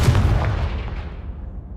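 A fiery Confringo spell blast from the video game Hogwarts Legacy bursts loudly at once, then rumbles and fades over about two seconds.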